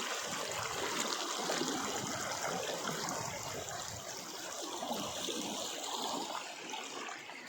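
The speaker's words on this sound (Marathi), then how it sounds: "हे वावरातूनच चाललेलं आहे सगळं पाणी" Floodwater rushes and gurgles continuously over a bridge and through fields near Saundali village, a steady broad flow at moderate volume with no voices.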